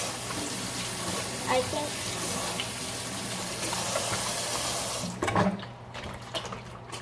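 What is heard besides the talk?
water running into slime in the sink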